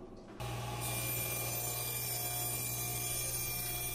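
A table saw blade hums steadily as it makes a second pass through wood for a squirrel feeder, starting abruptly and running on as an even, close mechanical whine with no voices.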